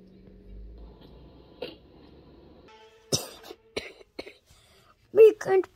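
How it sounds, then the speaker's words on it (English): A bad cough heard in a few short, sharp bursts near the end, close and loud, following a stretch of quiet talk and soft background tones. "We can't believe we have a bad cough."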